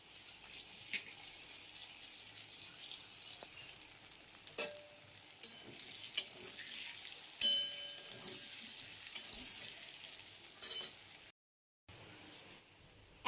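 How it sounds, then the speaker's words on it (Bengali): Chopped tomato fries with fried potatoes in a pan, giving a steady close sizzle broken by occasional scraping stirs of a spatula, with a brief dropout near the end and no talking. "এখন আমি এর মধ্যে টমেটো কুচি দিয়ে দিচ্ছি।"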